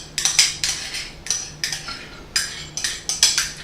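Half a cup of cooked brown rice scraped into a vegetable beef stew, heard as a run of sharp metallic spoon-on-container clinks and scrapes in an irregular rhythm, close and clear.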